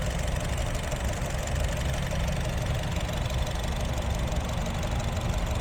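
A 2017 Honda Brio Satya E CVT engine idles steadily, a constant low hum with faint rapid ticking and no talk over it.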